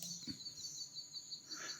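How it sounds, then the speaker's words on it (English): Bird sound effect with faint, thin chirps and a steady high insect-like trill, quiet and distant throughout with no one speaking. "Yeah, so some bird sound, it's also nice."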